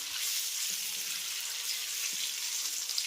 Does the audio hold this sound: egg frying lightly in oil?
yes